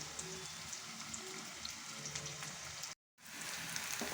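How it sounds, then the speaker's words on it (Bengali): Sliced onions frying in oil for mutton biryani, a steady close crackling sizzle with fine popping spatters, briefly cut to silence before the frying resumes. "পেঁয়াজগুলো লাল লাল করে ভেজে তুলে নেব"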